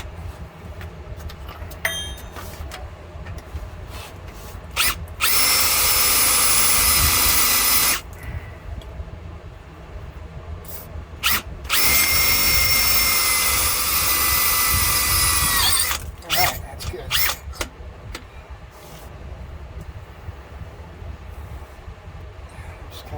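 A power drill whines loudly in two long bursts of several seconds each, grinding into steel on a 2004 4x4 Astro van, with quieter clanks and handling noises between.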